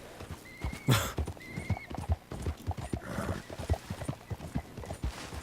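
A horse in the Red Dead Redemption II video game clip-clops along with rapid hoofbeats and lets out two sharp neighs early on, the hooves continuing in a steady galloping rhythm, close and clear.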